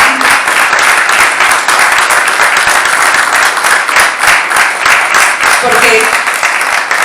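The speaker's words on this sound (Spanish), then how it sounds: "pido un aplauso para todo el Ayuntamiento de" Audience applause for the Vilamarxant town council, a loud, dense and continuous burst of clapping from a crowd, with a voice speaking briefly over it.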